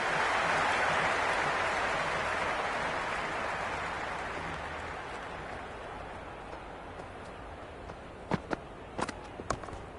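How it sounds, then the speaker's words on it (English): A broad crowd roar swells in a cricket video game stadium and gradually fades over about ten seconds, followed by a few sharp clicks or claps near the end, with no voices on top. "Will you listen to that crowd? They are loving this."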